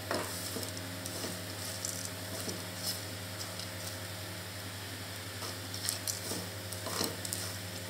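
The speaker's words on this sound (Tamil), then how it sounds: "இது நல்லா வறுத்துக்கோங்க." Nuts roasting in a dry pan for a chocolate nut mix, soft continuous sizzling with scattered stirring scrapes and light patter, fairly quiet and close.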